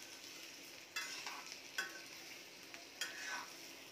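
A utensil scrapes and stirs raw papaya vegetable in a pan, with a few distinct scraping strokes over a soft, steady background sizzle.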